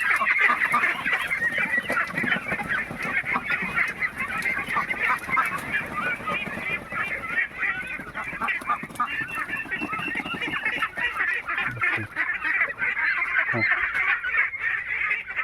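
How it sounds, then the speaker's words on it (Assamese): A flock of local domestic ducks and ducklings keeps up a dense, continuous chorus of quacking and peeping nearby, loud and busy throughout, with some background voices mixed in. "এইবিলাক লোকেল পাতি হাঁহ, এইবিলাক পোৱালি যদি আপোনালোকে লাগে"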